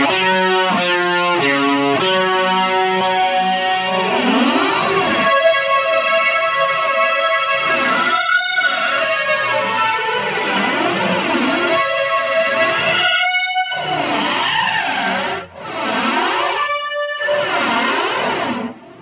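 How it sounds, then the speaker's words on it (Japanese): Distorted electric guitar chords through a Yamaha SPX90 reverse gate effect (preset 17), swelling and reversed-sounding, each note rising in and cutting off abruptly, with brief silent gaps. "ナンバー17番のリバースゲートを選んで、タイプはリバースね"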